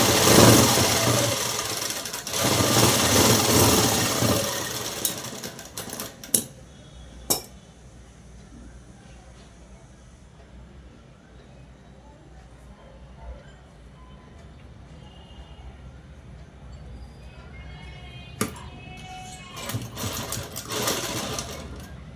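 A sewing machine stitches cloth in bursts, a fast mechanical whir at the start and again near the end, with clicks and clinks of handling and a quiet stretch in between.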